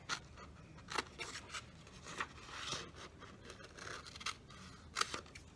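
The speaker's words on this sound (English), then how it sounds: "flip it over and grab our scissors" Repeated crisp snips and scraping cuts of scissors through paper, close up and fairly quiet, coming in irregular bursts with no talking.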